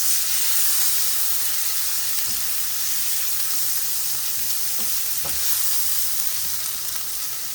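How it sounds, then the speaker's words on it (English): Tomatoes and milkweed pods frying in a pan, a loud, close, continuous sizzle with steamy hiss and occasional scrapes and knocks from stirring, with no talking. "I'm going to toss in my tomatoes and my milkweed. These obviously have quite a bit of moisture, so there's a lot of sizzling going on."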